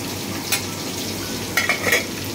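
Fish fries in a pan for a mustard-paste fish curry, giving a soft steady sizzle under a couple of brief utensil clinks and stirring scrapes.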